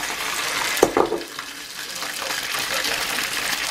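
Chicken liver drops into a hot pot with a brief splash and clatter, followed by a steady broadband sizzle of frying that continues alone at moderate loudness.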